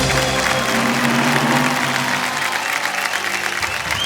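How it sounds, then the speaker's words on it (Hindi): Studio audience on the KBC India game show breaks into sustained, dense applause, loud and close, steady throughout with no voices over it. "तालियां आपके लिए"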